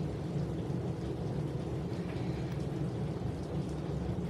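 Thunderstorm cell directly overhead, with steady heavy rain hissing across the whole span and low rumbling thunder beneath, loud and continuous with no talking.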